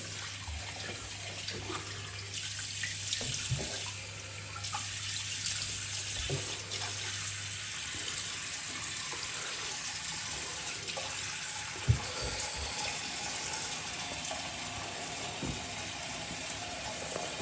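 Tap water runs steadily into a sink to prepare hot water for shaving, a continuous close splash and hiss with a few light clinks, no speech.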